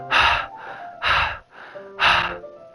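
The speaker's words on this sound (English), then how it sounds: "A sharp inhale, like someone is sucking the air through their teeth." Three sharp, loud inhales drawn through the teeth in a video game, evenly spaced about a second apart with soft gaps between.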